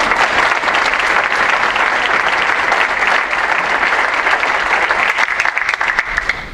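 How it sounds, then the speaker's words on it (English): An audience at a college alumni awards assembly gives loud, sustained applause, a dense wash of clapping that holds steady and thins slightly toward the end. "So how about a nice round of applause for Jessie?"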